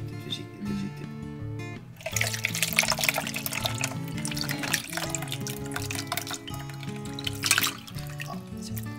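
Liquid trickles and splashes as it is poured slowly and carefully at a Swedish midsummer celebration, the pour fairly close and sitting under a steady wash of background music.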